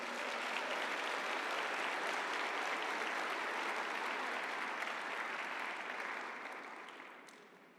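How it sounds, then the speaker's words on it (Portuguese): Church congregation applauds during a sermon, a broad, even roar of many hands clapping that holds for several seconds and then fades away gradually. "Quem pode aplaudir ao Senhor por isso?"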